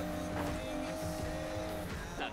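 A car in Need for Speed Payback revs and accelerates with a loud, continuous engine drone and brief tire squeals over a steady road roar.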